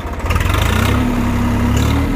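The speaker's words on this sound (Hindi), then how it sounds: "तो दोस्तों 1500 RPM कर दिए हैं ट्रैक्टर के और चलाइए।" A new Swaraj 855 4x4 tractor's diesel engine rises to about 1500 RPM, a loud, close, throbbing mechanical note holding steady after a short climb.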